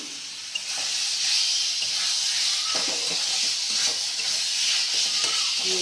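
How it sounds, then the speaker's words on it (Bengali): Potatoes hit a pan of cooked-down spice masala for a Bengali-style dumur curry, bursting into a loud, steady sizzle and hiss with faint stirring scrapes, close and continuous with no talk. "এই অবস্থায় আমি এর মধ্যে আলুগুলো দিয়ে দেবো।"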